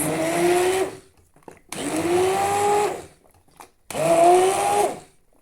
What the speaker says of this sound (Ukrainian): перебиваю блендером, тоді менше роботи із ситом.